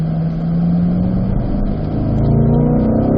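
A race car accelerates out of a corner at Spring Mountain, its engine note climbing steadily as the throttle opens, loud and close from inside the cabin, with no voices.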